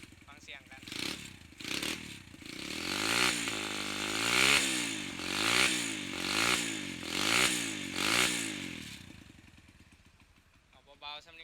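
A Chinese motorcycle converted into a CRF110-style dirt bike starts and idles, its small single-cylinder engine chugging with a few rising revs before settling and cutting off, close by, with someone talking briefly.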